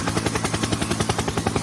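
A helicopter sound effect plays with a rapid, loud rotor thump in a steady chopping rhythm over a dense, roaring drone, close and continuous throughout.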